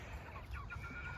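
A meat-breed hen clucks softly in a raised flock, a few short throaty clucks and low murmurs, faint and close, with no talking.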